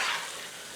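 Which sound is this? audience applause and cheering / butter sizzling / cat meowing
butter sizzling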